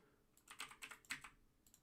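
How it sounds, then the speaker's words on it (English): Loud mechanical keyboard switches clack in a quick run of about eight sharp keystrokes, close and crisp over near silence. "This keyboard sounds ridiculous."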